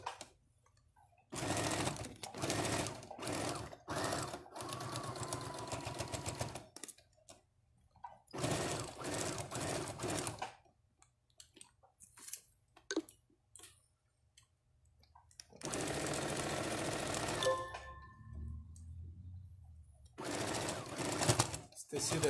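Sewing machine stitching a seam in tricoline cotton fabric, running in several bursts of rapid mechanical clatter with quiet pauses between them, and a voice speaking over parts of it.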